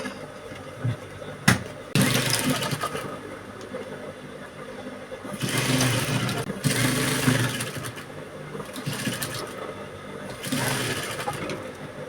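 A sewing machine stitching around a corset cup runs in several bursts of rapid whirring stitching, close and fairly loud, separated by quieter pauses with small handling clicks.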